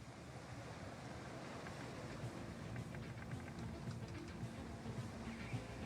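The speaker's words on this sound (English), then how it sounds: "The wind has picked up into the mid-30 knot range and gone forward a bit." Offshore on a sailing yacht in mid-30-knot winds, waves rush continuously past the hull while wind buffets the microphone, a steady, fairly soft wash of surf and gusts with no one speaking.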